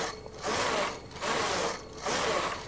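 Brother knitting machine carriage knitting plain rows, giving three sustained mechanical whirring passes with clattering needles, each about half a second long and separated by short pauses, close and alone.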